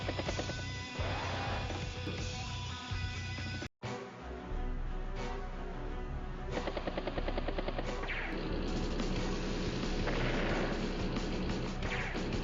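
Battle copter attack in Advance Wars: Days of Ruin, with rotor whir, machine-gun rattle and crashing blasts over steady game music throughout.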